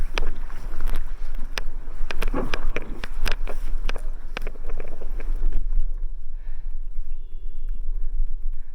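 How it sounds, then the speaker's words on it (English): A canoe is dragged up onto a shore, with scraping, thumping and splashing bursts nearby, followed by a quieter stretch of faint wind and outdoor ambience. "So right now I'm just pulling the canoe in as much as I possibly can so it's somewhat onshore."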